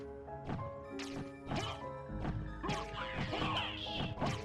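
In the game Symphony of the Night, objects are smashed with a shield, producing a series of sharp crashing whacks in quick succession, each with a breaking burst and short debris tail.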